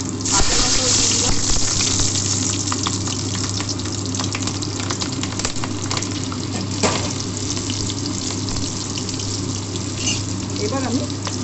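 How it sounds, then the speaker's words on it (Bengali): Dried chillies, nigella seeds, garlic and green chillies frying in oil in a wok, a steady sizzling wash that runs the whole time with a low hum beneath and occasional clinks. "কড়াতে তেল বসিয়ে দিয়েছি, এবার দুটো শুকনো লঙ্কা আমি চিড়ে দিয়ে দিলাম, কালো জিরে দিয়ে দিলাম"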